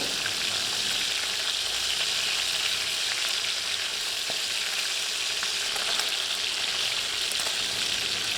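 Fish heads sizzle in hot oil as they fry and are turned, with a constant dense crackling hiss and a few faint knocks, no voices.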